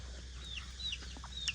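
Chickens clucking and calling at a rural Thai farm, with a few short squawks and chirps over a steady low hum, moderately close and not very loud.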